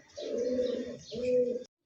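Chila pigeons, a master breeding pair, give two drawn-out coos one after the other, close and clear with no talk over them.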